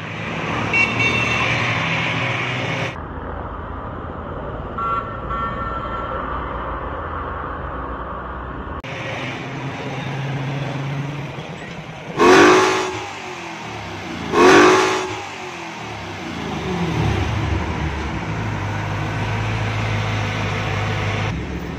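A heavy car engine idles in a large vehicle workshop, then revs sharply twice in quick succession before settling back to a steady running drone, loud and close, with no speech.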